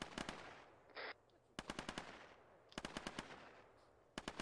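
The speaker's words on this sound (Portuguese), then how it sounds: "Os tiros estão a bater no veículo" Automatic gunfire in Arma 3 strikes a vehicle in several loud, rapid bursts separated by short gaps, with a brief hissing burst between the first two volleys.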